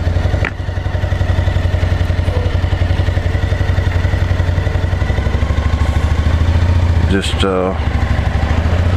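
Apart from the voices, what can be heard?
ADV motorcycle engine while riding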